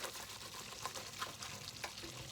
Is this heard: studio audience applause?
no